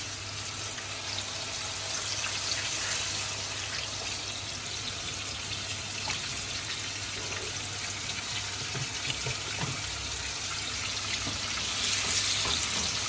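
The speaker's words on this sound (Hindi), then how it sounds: "now Mrs. Khan's frying them" Marinated chicken pieces for Arabic-style shawarma fry in a pan with a steady, even sizzle and hiss throughout, no voices over it.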